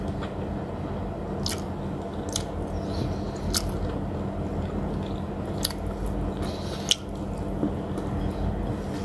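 Eating fried shrimp in breadcrumbs, with scattered soft bites and wet chewing over a steady low background hum, several crisp clicks spaced a second or two apart, no talk.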